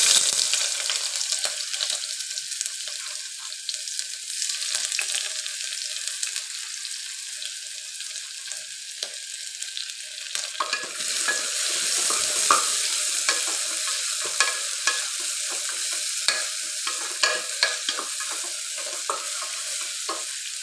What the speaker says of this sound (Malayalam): എണ്ണ ചൂടായിട്ടുണ്ട്, ഉള്ളി ഇടാം.